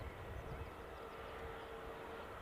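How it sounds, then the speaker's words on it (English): A distant incoming airplane approaching Newcastle airport, a faint steady rumbling drone against background noise with no clear change in level. "I'll pull off this in a second for the incoming plane."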